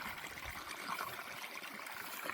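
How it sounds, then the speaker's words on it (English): A small stream of water running steadily, a soft continuous trickle and burble, fairly quiet, heard alone with no talking. "It's only a little stream"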